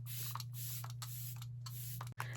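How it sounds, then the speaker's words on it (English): A makeup setting spray mists in several short, soft bursts over a steady low hum, close by and fairly quiet. "where's my setting spray? We're going to set that baby in place."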